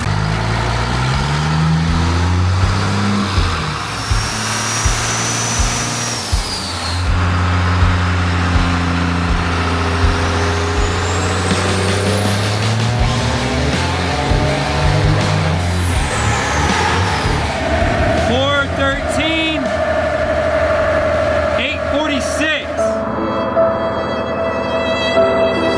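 A 33-year-old diesel pickup truck engine runs loud and steady on a dyno, its pitch climbing and falling through long rev sweeps before settling toward a rougher, lower drone near the end.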